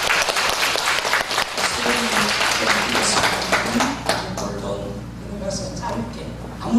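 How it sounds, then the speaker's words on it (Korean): A church congregation at a peace academy service in Jinju breaks into loud, close applause with sharp individual claps that gradually thins out, while a voice talks over the later part. "우리 진주시 평화 지도자들 위해서 큰 박수 한번 하겠습니다."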